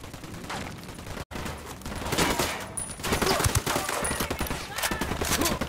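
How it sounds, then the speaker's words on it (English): Gunfire in Ghost Recon Wildlands: dense, continuous bursts of shots crackle throughout, loud and close, with a brief cut-out early on. "I'm opening fire on these shitheads."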